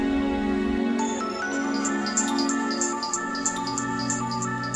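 A mobile phone ringtone plays during a Pakistani drama scene, with a bright, repeating melodic chime pattern that starts about a second in and loops steadily over a sustained, soft musical backing.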